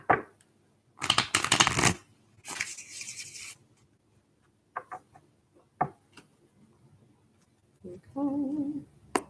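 Several bursts of tarot cards being shuffled, riffled and bridged close by, separated by quieter handling clicks and taps; no talking.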